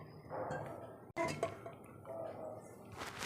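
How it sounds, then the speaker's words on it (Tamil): A metal idli steamer pot is lifted open. One sharp metallic clink and scrape stands out over a low steady kitchen background, followed by faint rattles, all close by. "வாங்க, இப்போ நம்ம இந்த இட்லி பாத்திரத்தை ஓப்பன் பண்ணி பார்க்கலாம்."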